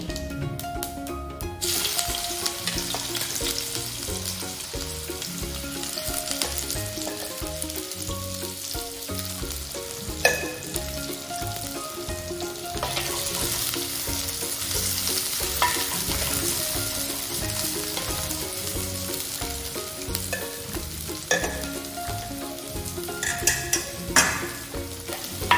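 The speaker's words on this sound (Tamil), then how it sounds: "இனி நாங்கள் கடுகு, பெருஞ்சீரகம், மற்றது வெங்காயம், பச்சை மிளகாய், உள்ளி எல்லாத்தையும் போட்டு வதக்கி எடுப்போம்" Mustard seeds, fennel, onion, green chili and garlic sautéing for a spicy Jaffna yam curry, with a steady loud sizzle and crackle throughout, punctuated by occasional spoon scrapes and pops.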